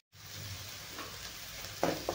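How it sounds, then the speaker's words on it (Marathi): Ground masala roasting in a pan gives a soft continuous sizzle, fairly quiet, with a couple of brief scraping stirs toward the end. "मसाला चांगला भाजून घेणार आहे।"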